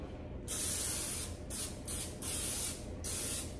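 Regular Pam cooking spray hisses from the can into glass baking dishes in four or five close, sharp bursts of varying length, loud and alone with no talking.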